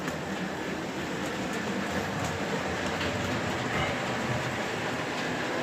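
A toy model train pulls a small wagon along its track, giving a continuous, even rolling rattle with faint clicks at a steady level and no talking.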